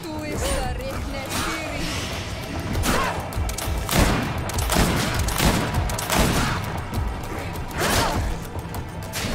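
Repeated 8-shot pistol gunfire and impact crashes in the video game GreedFall, dense overlapping bursts of shots with combat clatter, loud and continuous, under occasional voices.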